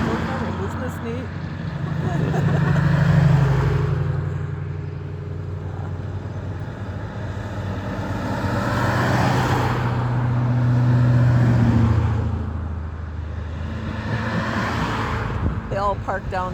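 Classic cars on a tour along Old 27 in Gaylord, Michigan roll past one after another, engines swelling and fading as each passes nearby, while people chat over the steady traffic rumble.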